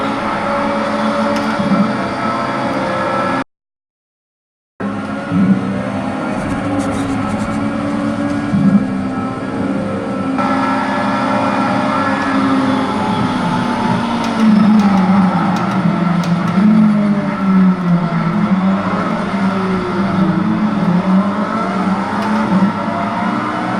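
Race car engines roar at the start of a Le Mans 24-hour race in a racing sim, a loud, dense drone of engines revving and accelerating that runs throughout, broken by one brief silent gap.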